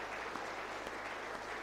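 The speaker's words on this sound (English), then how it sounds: "request that we clap for him again" An audience at the 39th AEAA annual conference claps, a brief, dense, even burst of applause with no voices standing out.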